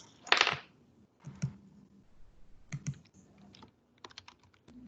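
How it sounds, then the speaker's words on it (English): Sparse clicks of typing on a computer keyboard, a louder clatter at the start followed by scattered, isolated keystrokes and small bursts over a quiet room. "While she's typing in the chat"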